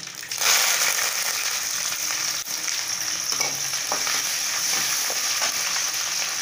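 Chopped small shallots and curry leaves hit hot oil in a pan and break into a loud, continuous crackling sizzle that stays dense and close, with occasional stirring scrapes.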